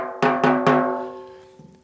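Three evenly spaced taps of a drumstick on a snare drum head near a tuning lug, each a bright ringing strike with sustained overtones that slowly decay, close and loud with no voices.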